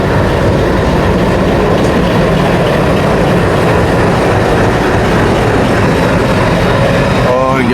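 A departing Neelanchal Express passenger train rolls steadily past, a continuous loud rumble of wheels and carriages with rhythmic track clatter, and a voice talks faintly beneath it.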